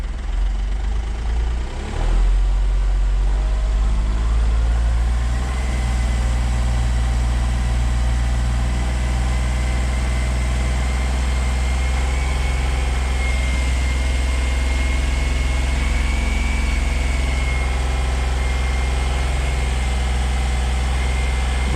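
A Smart Fortwo turbocharged engine with its intercooler removed idles steadily and loudly, a deep constant drone with a faint rising whine, after a brief rev near the start; no talking.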